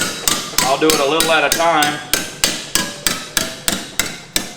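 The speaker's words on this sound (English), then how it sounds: "I'm just going to work it over with a hammer." A hammer strikes a metal piece clamped in a vise, with a steady series of sharp ringing blows, loud and close. Someone talks briefly over the first few strikes.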